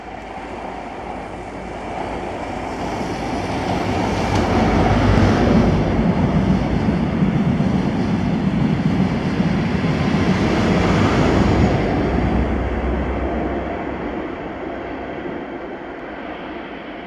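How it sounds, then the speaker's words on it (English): A ScotRail passenger service to Inverness from Edinburgh passes at Blair Atholl station, a broad rumbling roar that swells over several seconds, holds steady, then slowly fades, with no voices. "this is 1H19, the 2145 ScotRail service to Inverness from Edinburgh."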